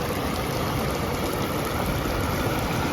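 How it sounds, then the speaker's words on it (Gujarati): Water gushes steadily from a public tap standstand beside a flooded river, a continuous close, loud rushing hiss with no pauses. "નળમાં પાણી આવે."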